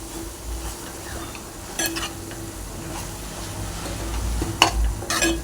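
Cauliflower egg curry with curry leaves and coriander stirred in a pan, a steady soft sizzle with a few scraping clinks of the spoon against the pan, no talking.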